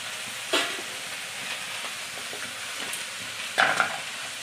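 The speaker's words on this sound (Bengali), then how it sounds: "আমি মশলাটা এর সঙ্গে ভেজে নিলাম" Spices frying with soybean chunks in a pan give a steady close sizzle, with two sharper bursts as the mixture is stirred and scraped, and no talking.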